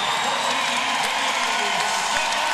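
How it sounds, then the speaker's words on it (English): A basketball arena crowd roars for Katie Smith at her Seattle Storm debut, a dense, steady wall of cheering and applause that fills the whole stretch, with a commentator's voice running underneath. "And the roar of the crowd for Katie Smith"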